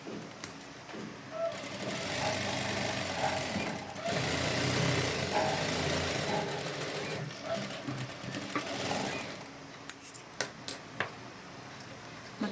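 A sewing machine stitches a blouse sleeve, a steady close mechanical whir that runs for long stretches with brief pauses, ending in a few sharp clicks.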